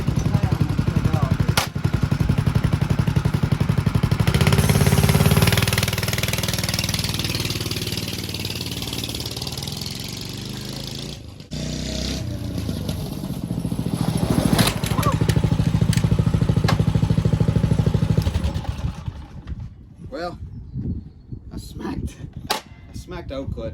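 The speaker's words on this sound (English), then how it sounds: "that clutch bolt is hitting the plastic" A Monster Moto 212 minibike engine runs loud and close, rising and falling in revs, with a rough raking rattle from the clutch bolt hitting the plastic cover, then cuts off into scattered clicks and knocks.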